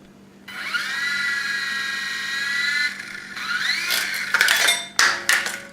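A WLtoys V911 radio-controlled helicopter's small electric motor spins up into a high, thin whine, holds steady, then rises again before clattering bursts and rattling knocks as it crashes, close by with no talk.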